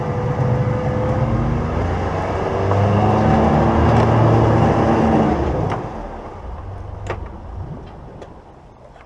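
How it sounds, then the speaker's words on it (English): A boat's outboard motor at a saltwater boat launch gets a little throttle, giving a loud, close, steady engine drone with churning water that holds for several seconds and then eases off and fades. "Give it a little throttle."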